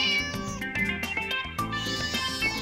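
Cat meowing in the farming video game Harvest Moon Light of Hope, a few clear, close meows over plucky background game music.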